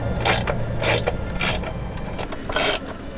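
Hand-tightening a nut on a running board mount under a Ford F150 pickup produces close, repeated metallic ratcheting and rubbing bursts, with no talking.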